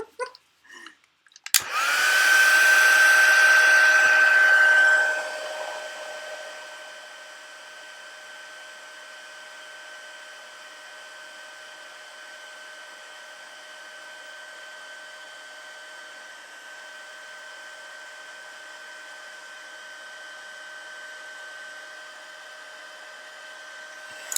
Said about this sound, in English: And then I'm going to turn on the heat tool here, so plug your ears or talk amongst yourselves.